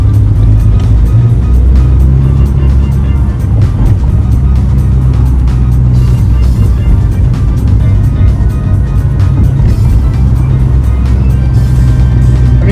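Steady, loud engine and road rumble inside a lowered 2022 Fiat 500 Pop riding on springs with wider rims as it drives over road bumps, with faint knocks scattered through the continuous drone.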